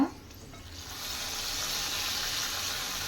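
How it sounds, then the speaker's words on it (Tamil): Fried tempering poured into a pot of milky rava payasam sets off a close sizzling hiss that swells after a brief moment and holds steady, with no talking. "பொரிஞ்சதை இதில் ஊற்றிடுங்க"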